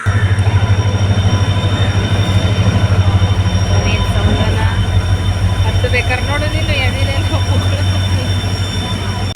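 A train sits at the Talaguppa railway station, its loud, steady low engine drone filling the whole stretch, with people talking faintly beneath it.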